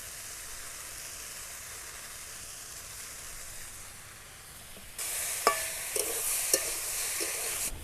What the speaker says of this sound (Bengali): এই সবজিগুলো ভাজা ভাজা হয়ে গেছে। এবার আমি এর মধ্যে পেঁয়াজগুলো দেব।